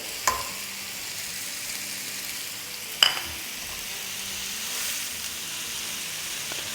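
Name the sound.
chopped onions frying and being stirred in pan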